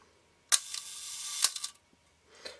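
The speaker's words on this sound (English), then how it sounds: "when I cock the shutter" A Nikon F film camera having its shutter cocked, giving two sharp mechanical clicks with a short whirring rattle between them and a softer click near the end, close and isolated in a quiet room.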